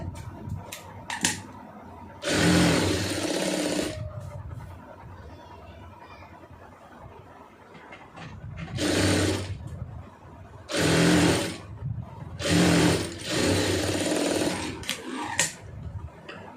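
A sewing machine runs stitches along a blouse seam in four loud bursts of rapid motor whirring, separated by quieter pauses with faint handling noise.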